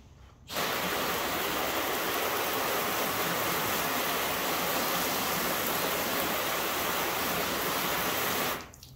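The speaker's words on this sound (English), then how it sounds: "let's wash the panel and see how it's looking" Steady, loud spray of water hosing down a coated test panel treated with Nu Finish graphene or ceramic coating spray, a dense continuous rush that starts abruptly and cuts off near the end, with no voices.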